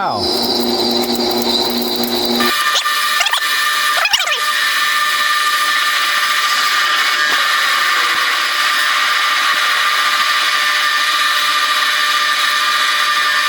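A G0602 metal lathe parts off a workpiece, a steady high tonal whine with a strong sustained ring running throughout, loud and close, with a brief shift in pitch early on and no speech.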